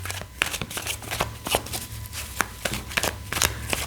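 Tarot cards shuffled by hand for a reading, a quick run of crisp riffling slaps and flutters at a close, moderate level, repeating at a brisk, uneven rhythm with no talking over them.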